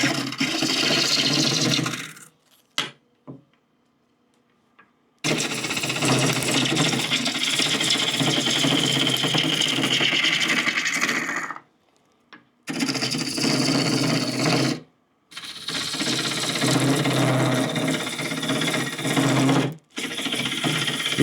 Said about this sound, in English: You can really hear my tailstock rattling back there.